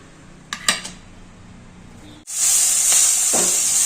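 Capsicum hits a hot pan and fries in Telugu-style cooking for a capsicum and cabbage curry. A steady, loud sizzle follows a few clinks of utensils.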